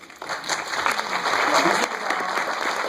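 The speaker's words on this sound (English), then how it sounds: "Please join me in a round of applause for Richard Roundtree, Margaret Avery," Audience applause for the Being Mary Jane cast at a season 2 premiere event, a full round of clapping that swells and holds steady from a sizable room, with faint voices beneath.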